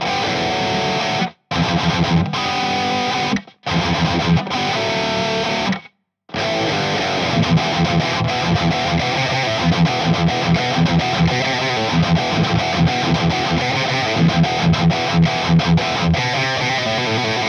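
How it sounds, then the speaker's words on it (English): A heavily distorted electric guitar plays aggressive, chugging metal riffs, broken by a few brief silent gaps early on, then continues steadily. "you sometimes just come up with some really cool aggressive guitar tones"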